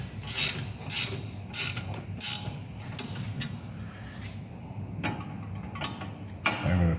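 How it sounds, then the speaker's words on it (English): Torque wrench tightening a brake caliper bolt on a Renault Clio during a brake pad change: a series of sharp ratcheting clicks come in short bursts, with a few final ticks toward the end, close and fairly loud in a quiet garage. "We get it nipped up, and then we torque it to spec."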